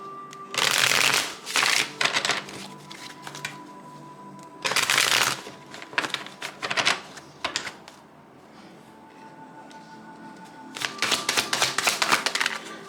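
A deck of tarot cards is shuffled in several close bursts of crisp riffling and flapping, separated by quieter gaps of soft card handling and faint background hum.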